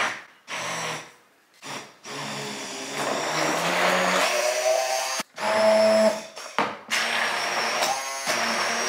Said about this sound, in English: Now I'm going to use my immersion blender